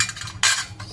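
Metal fork and spoons clink and rattle as they are handled and set out, with a sharper clatter midway through, close and fairly loud with no talking.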